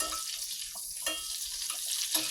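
Butter and grease frying in a small skillet for gravy, a steady close hiss and sizzle with faint pops, continuous and fairly quiet with no talking.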